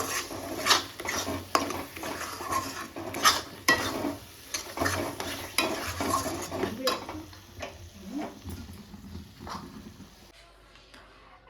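A spoon scrapes and clinks repeatedly around a metal wok while a thick gravy sizzles softly, the stirring slowing and fading near the end.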